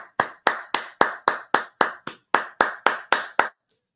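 Crowd clapping for Turner Mac at a sports betting stream, about fourteen sharp claps in a steady rhythm, close and fairly loud, stopping abruptly near the end.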